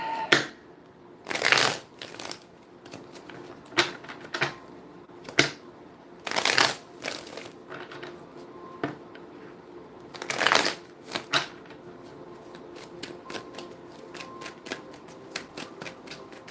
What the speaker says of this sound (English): Let me take a deck of cards here.